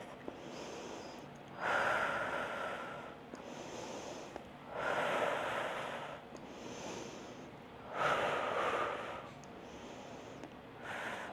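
Slow, deep breaths during a hip stretch, with four long airy exhales at regular intervals, close and soft, separated by quiet pauses.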